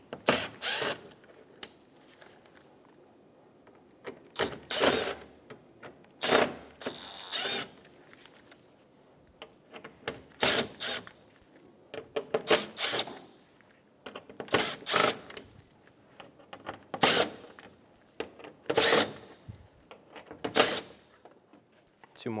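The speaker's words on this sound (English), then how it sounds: "remove all of the screws on the front." Power driver with a Phillips bit spinning screws out of the front upper grille on a 2012-2020 Chevrolet Sonic, heard as a series of short whirring bursts separated by pauses, close and fairly loud.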